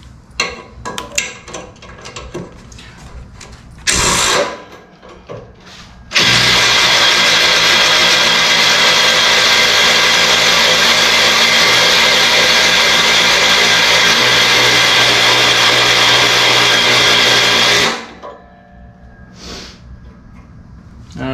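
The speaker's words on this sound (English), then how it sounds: "You're cutting through metal." A power tool grinds through thick metal, about 1/8 inch, while fitting a ball hitch to a zero-turn riding mower, a loud sustained roar of about twelve seconds, framed by shorter bursts and quiet moments with talk.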